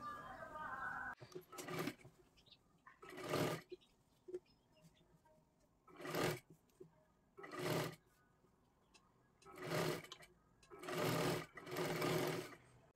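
Sewing machine stitching the double seam that joins the sleeve of a katori blouse, running in about seven short, loud, even bursts separated by pauses, with someone talking between runs.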